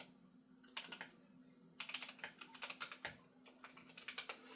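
Typing on a GMMK Pro mechanical computer keyboard, close up: quick, uneven runs of crisp key clacks with short pauses between bursts, heard alone against a faint steady hum.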